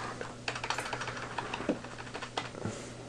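Computer mouse and keyboard clicks during editing in Sony Vegas 8 software, a busy run of sharp small taps at close range with a low steady hum underneath.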